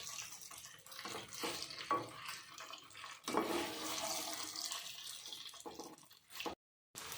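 Taro root (arbi) with turmeric and spices is gently stirred in hot oil in a pan, giving a close, continuous sizzle with wet scraping and stirring sounds that swell as the pieces go in, then cut off briefly at the end.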